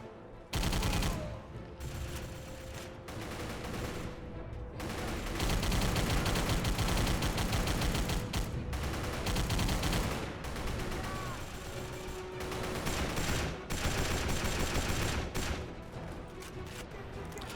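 Gunfire in the Xbox 360 game Battle for the Pacific, fought on Iwo Jima: dense bursts of rifle and machine-gun fire with heavy booming shots, loud and near, rolling almost without pause.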